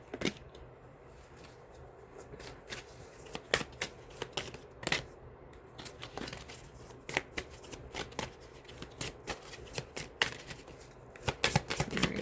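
Tarot breakthrough cards being shuffled by hand: a steady run of crisp, papery flicks and snaps in irregular rhythm, close and fairly quiet, with no talking.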